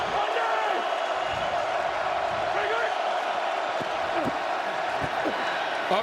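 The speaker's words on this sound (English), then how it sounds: "And the Seattle crowd starts to make noise." Crowd noise from a Seattle stadium at an XFL football game between the Dallas Renegades and Seattle Dragons, a steady broad roar with scattered shouts under continuous commentary.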